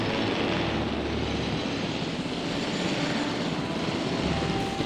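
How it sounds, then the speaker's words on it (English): Helicopter in the video game Jurassic World Evolution, a steady, loud engine and rotor drone that fills the whole stretch without a break and with no talk over it. "You mean to tell me I'm not allowed to land my helicopter"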